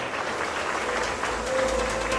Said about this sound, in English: massive round of applause as we welcome her to stage